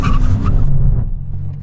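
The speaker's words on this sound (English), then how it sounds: "Let's do a brake test from 60 miles an hour." An Aston Martin V12 Vanquish brakes hard from 60 mph, a loud close rush of engine and tyre noise that fades quickly as the car comes to a stop.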